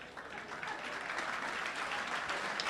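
Steady applause from an audience at a spiritual talk on inner peace, a dense wash of many hands clapping at even loudness throughout, with no voices over it.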